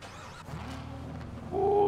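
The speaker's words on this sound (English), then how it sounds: "you might have to get in and turn the car on" A car engine starting in a video game roleplay: a low mechanical rumble turns over, then swells into a louder, steady tonal engine drone near the end.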